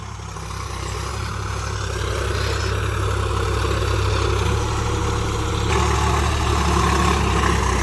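A Sonalika 47rx 4x4 tractor pulling in a field in fourth gear, its engine producing a deep, steady drone with low rumbling throb that grows slightly louder and stays constant and close.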